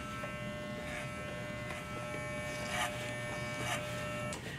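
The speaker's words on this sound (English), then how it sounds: "As you're cutting with the clipper, you're bringing it up to the temporal ridge and then seeing it away from the head." An electric hair clipper buzzes steadily and close during a men's basic taper cut, its even hum broken by slight swells as it moves up toward the temporal ridge.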